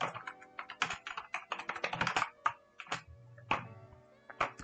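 Python code typed on a computer keyboard: quick irregular clusters of close key clicks with short pauses between bursts, and no talk.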